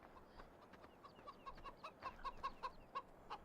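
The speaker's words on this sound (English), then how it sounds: "Indeed, here are the chickens." Chickens by a chicken shed in Farming Simulator 15 cluck in a quiet run of short, soft notes that grow slightly busier toward the end, faint and without talk.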